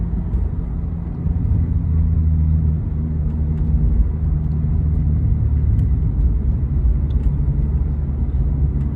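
Subaru BRZ/Toyota GR86 with a 6-speed manual, heard from inside as a steady low engine drone and road rumble through gear shifts, continuous and fairly loud with little change across the stretch.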